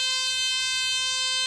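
A comedy magician's lie detector prop sounds its alarm buzzer, one loud, harsh, continuous electronic tone held steady without a break.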